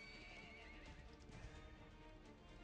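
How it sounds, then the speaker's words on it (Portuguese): A horse in the mobile game Perfect World Mobile: steady clip-clop of hooves with a whinnying neigh, loud and close, running continuously with no talk. "Eu vou pegar um cavalo aqui."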